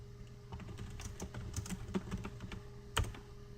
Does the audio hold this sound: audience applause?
no